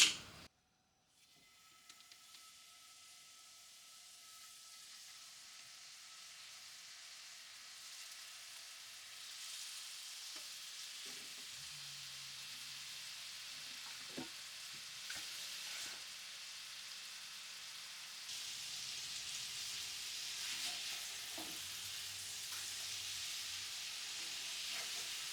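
Lean turkey sausage patties fry in a lightly oiled skillet, a steady broadband sizzle building gradually and holding at moderate level, with a few soft clicks and scrapes partway through and no talking.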